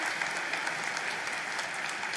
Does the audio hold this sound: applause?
yes